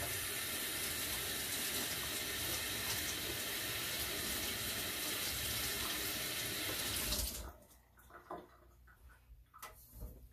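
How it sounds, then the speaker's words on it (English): Tap water runs steadily into a sink while hands are rinsed, a loud, close, even rush for about seven seconds before it cuts off, leaving faint small drips and handling noises. "Quick rinse my hands"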